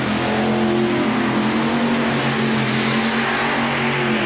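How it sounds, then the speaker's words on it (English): A modified pulling tractor with multiple Chevy engines drags a sled at a 1989 tractor pull in Owensboro, Kentucky, producing a loud, dense, sustained engine roar at full throttle throughout, with no talking. "let's let these Chevy motors go to work"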